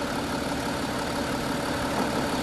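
An Audi A7 55 TDI with a V6 diesel engine idles with a steady, even hum and a soft low rumble. The sound holds constant at moderate loudness throughout, with no talk over it.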